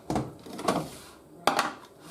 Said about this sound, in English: Limescale tablet in the drawer